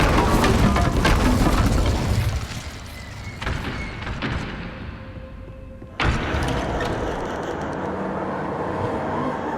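The Incendio fire spell cast in Hogwarts Legacy: a dense, roaring whoosh of flame that fades, then a sudden boom-like burst followed by sustained crackling rumble, loud and with no voices.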